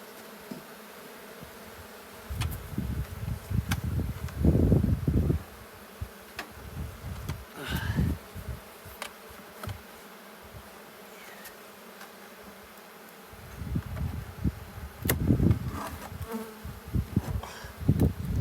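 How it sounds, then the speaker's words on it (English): Bees buzz loudly close by during a hive inspection, droning in swelling bursts that come and go over a quieter hum, with occasional light knocks and scrapes. "A lot of bees out, so 6, 7 scenes of bees."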